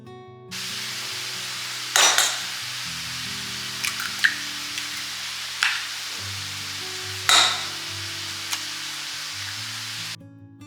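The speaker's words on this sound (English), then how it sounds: "So I'm going to go ahead and get this meat browning" Sausage meat browns in a pan for make-ahead breakfast dishes, a steady sizzle broken by a few sharp scraping stirs and clinks of the utensil against the pan.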